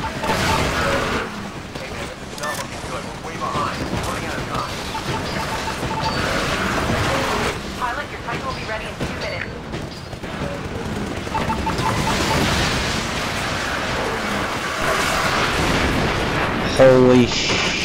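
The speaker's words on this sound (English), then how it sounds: "All of them explosions are in here." Loud, continuous battle din from the video game Titanfall, with repeated explosions and gunfire bursts layered over each other throughout, and a voice talking over the top.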